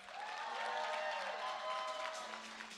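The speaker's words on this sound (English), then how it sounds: "Give them a round of applause." Audience applause and cheering for a school drumline's house band at a drum showcase, a steady dense wash of clapping that holds for about three seconds at moderate level, with faint crowd voices mixed in.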